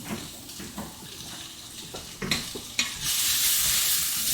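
Onions frying in oil until crisp, a close, soft sizzle broken by a few stirring scrapes and knocks before the frying swells into a louder, steady hiss, no voices.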